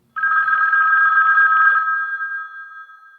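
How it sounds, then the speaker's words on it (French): A landline telephone bell rings loudly in one long electronic trill, then fades out, close and alone. "On n'entend que ça, la sonnerie du téléphone, celle de son fixe"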